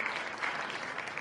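A short burst of dense applause, many hands clapping steadily at moderate level.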